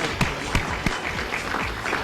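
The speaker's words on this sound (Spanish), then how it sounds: "Un aplauso para los nominados y aquellos que ya tienen sus premios" Applause from a Spanish-language cultural awards audience honoring nominees, a steady wash of many hands clapping with a few sharper bursts, fairly close and continuous throughout.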